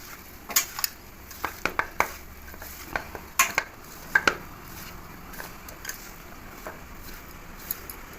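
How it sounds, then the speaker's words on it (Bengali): Jackfruit pieces are mixed by hand with cornflour and ginger-garlic spices in a bowl, with a series of irregular clicks and soft knocks against the dish, close up and with no talking. "এবার একটু কর্নফ্লোর দিয়ে মেখে নেব, মেখে আধ ঘন্টা রেখে দেবো।"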